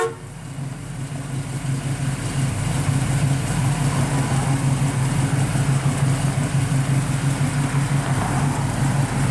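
A 1967 Chevrolet Chevy II Nova with a 355 V8 runs at a steady, stout idle, a close, continuous lumpy rumble with no talk over it.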